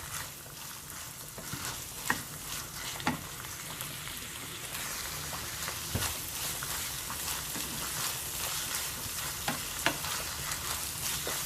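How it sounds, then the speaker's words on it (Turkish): Steady sizzling of minced meat frying in a pan, a constant crackling hiss with occasional louder pops and stirring scrapes, close up and without talk. "Kavurma işlemine devam ediyoruz."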